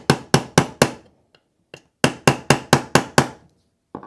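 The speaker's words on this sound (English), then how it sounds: "Nylon side of the hammer. It'll get to a certain point and then I use my punch so I don't scuff the frame." Nylon-faced hammer and a punch driving a pin into a Glock 45 pistol frame: two bursts of sharp, close metallic taps, four quick strikes then a few soft ones, followed by a rapid run of six.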